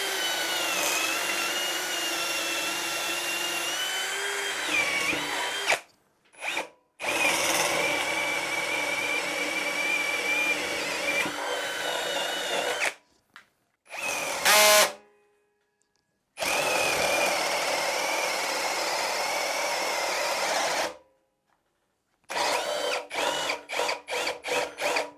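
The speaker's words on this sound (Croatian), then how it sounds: "Krećemo sa 10 mm leptirburgijom pa idemo ka većim prečnicima." A Ryobi R18PD7 cordless drill on a 2.5 Ah battery bores with a 10 mm spade bit, whining loudly and steadily in long runs broken by brief stops and a few short stuttering bursts near the end.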